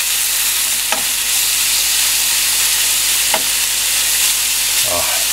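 Steak pieces sizzle loudly and steadily in a pot on a boat, with three brief scraping stirs of a utensil breaking through the constant frying hiss.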